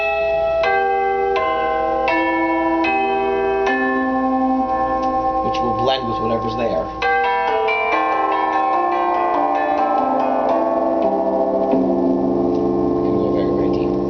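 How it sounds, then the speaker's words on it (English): Bright bell-like chimes ring from the lower manual of a Rodgers 558/568 organ, a series of sustained struck tones building into a layered, shimmering chord, with someone speaking briefly over it. "It adds chimes to the lower manual"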